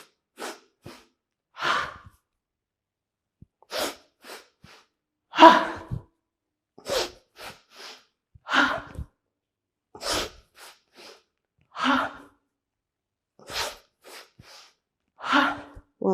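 A person doing yoga exhales forcefully again and again with an audible ha, sharp breathy bursts separated by quieter inhales and pauses, close and alone.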